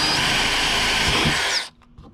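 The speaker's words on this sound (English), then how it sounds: "I'm back with my drill, and I'm gonna go ahead and just put the first hole in right here" A power drill puts the first hole into an Old Town Bigwater kayak while Freedom Launcher wheels are being mounted. A steady close whine runs for about a second and a half, then stops sharply, leaving faint clicks.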